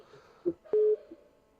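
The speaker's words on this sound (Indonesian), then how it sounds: "Atau kalau mungkin ada telepon yang masuk." An incoming phone call on a live talk broadcast: a short soft blip, then one clear, steady electronic line tone lasting about a fifth of a second before quiet returns.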